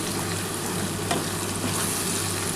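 Fish curry with potato and a spoon of red chili powder sizzling loudly in hot oil, a dense continuous fry close up with a brief stir scrape in the middle, no talk.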